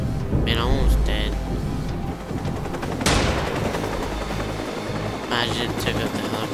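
Helicopter rotor thumps drone under gunfire bursts and explosions in Watch Dogs gameplay, loud and busy throughout.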